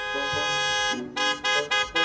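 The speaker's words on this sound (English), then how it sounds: "except for the blaring car horns outside, because of course, nothing can be too easy" Car horns blare outside a street-side pawn shop in Detroit, one long continuous honk followed by several short repeated blasts, loud and close.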